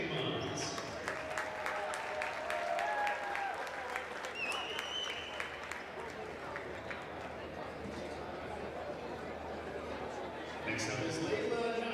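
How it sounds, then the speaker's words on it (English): A crowd at a high school basketball game claps steadily at a moderate distance, with scattered cheers and chatter mixed in. "Big round of applause for Jaden Mons."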